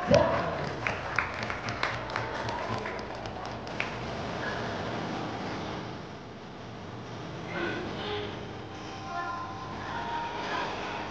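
Birthday party guests applauding Father Tom, a burst of clapping and crowd noise near the start that settles into a rumbling murmur of the gathering for the rest.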